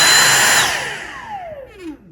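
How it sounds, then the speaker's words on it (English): A Dyson V6 (DC59) cordless stick vacuum cleaner with a start-then-stop fault runs loudly up close, then its motor winds down with a falling whine that fades out within about two seconds. "In the event that your vacuum cleaner is starting and then stopping"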